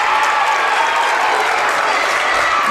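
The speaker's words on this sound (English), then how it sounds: "This student section and these fans are making it rowdy here tonight inside the Armory" A high school boys basketball crowd in an armory gym cheers and applauds a made free throw, a dense, loud, steady wash of clapping and shouting that fills the whole stretch.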